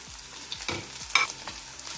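Shredded carrots stirred and fried in a pan with boiled chicken for spring rolls: a steady soft sizzle broken by several scraping spatula strokes at an even pace, close and moderately loud.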